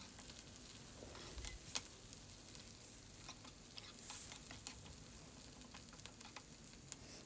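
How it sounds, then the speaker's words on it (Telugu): Green chillies and curry leaves fry in oil for an egg curry, giving a steady, fairly faint sizzle throughout with a few louder crackles and pops, and no voices. "పచ్చిమిర్చి కరివేపాకు రెండు కూడా ఆయిల్లో కొంచెం ఫ్రై చేసేయండి."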